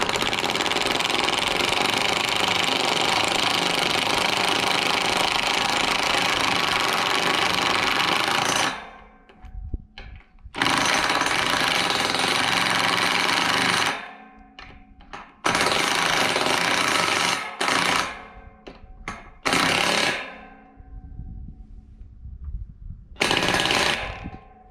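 Power tool driving a lag bolt into a pre-drilled hole, a loud steady motor whine for several seconds, then a series of shorter bursts and stop-start pulses as the bolt is snugged down.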